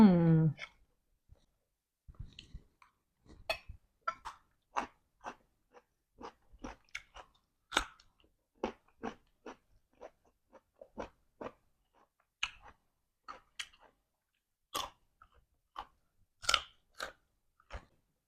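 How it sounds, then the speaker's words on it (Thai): Someone chewing a big mouthful of rice and food, a long run of close, wet crunchy bites and smacks in an irregular rhythm, with a short stretch of talking at the start. "เอาใส่ข้าวด้วยคำใหญ่ๆ"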